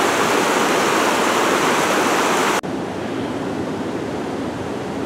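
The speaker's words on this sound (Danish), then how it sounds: "Det er et rigtig flot vandfald." A large waterfall in Norway roars as a steady, loud, broadband rush of falling water with no pauses and no voices.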